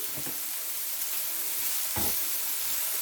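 Seasoned pork with salt, black pepper and cayenne browning in a pan, a steady even sizzle with a couple of brief stirring scrapes, close and moderately loud.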